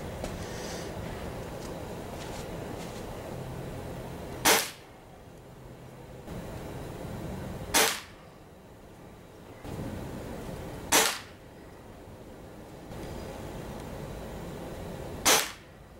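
Four sharp, loud cracks from a Stoeger ATAC .22 gas-ram air rifle with suppressor, firing H&N Chrome Magnum 18.21 grain pellets at a 20-yard target, each shot spaced a few seconds apart over steady low background noise.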